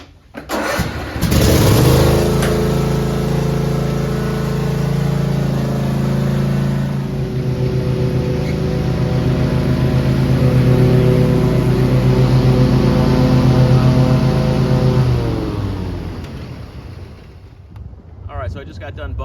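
A Cub Cadet RZT50 riding mower engine cranks and catches, then runs at a steady, loud, throbbing idle close to the microphone before cutting off near the end, with some wind buffeting.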